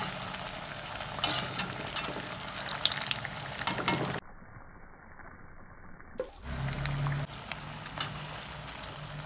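Potato bondas deep-frying in hot oil give a steady crackling sizzle with faint bubbling, close and moderately loud, broken by a short quiet gap before the sizzling returns.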